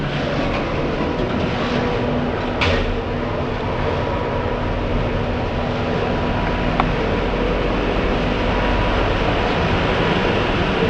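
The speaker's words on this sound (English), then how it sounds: "Doors opening, lift going up." Lift car in the Pentagon Centre in Chatham rising between floors, a steady low mechanical hum and rumble that runs evenly throughout, with a single brief clunk early on and no voices.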